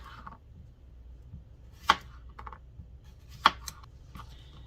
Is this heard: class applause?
no